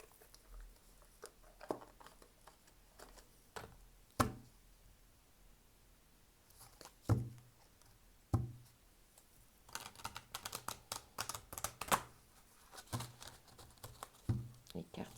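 Stiff new oracle cards are handled and shuffled, giving irregular papery taps and flicks that cluster into a quick riffling patter near the end, close and fairly quiet.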